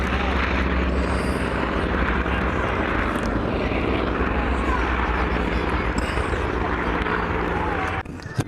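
An aircraft of a British military aerobatic team roars steadily overhead, a loud continuous engine drone that fills the scene before cutting off abruptly near the end.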